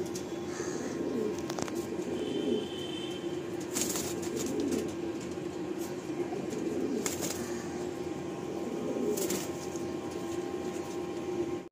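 Pigeons at a sale in Park Circus, Kolkata, coo and stir steadily through the scene, with occasional wing flaps and soft calls over a constant low murmur of birds.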